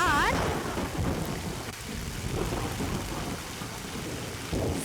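A thunderstorm with steady heavy rain and rolling thunder fills the scene, broad and continuous, with no voices over it.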